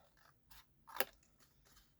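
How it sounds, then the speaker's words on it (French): Scissors make one crisp snip at close range, with a few softer blade clicks around it in a quiet room. "allez, on va faire avec les ciseaux"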